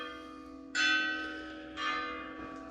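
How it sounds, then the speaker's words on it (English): Church bells ring a few clear, resonant strokes, each swelling and slowly decaying, heard at moderate distance with no talking. "The bells."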